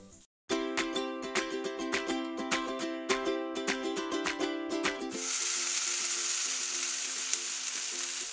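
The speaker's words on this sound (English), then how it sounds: "then we'll pop that on a hot grill or grill pan" Shrimp and tomato skewers cook on a hot grill pan. A run of rhythmic tonal clicks gives way to a steady, close, continuous sizzle that lasts to the end.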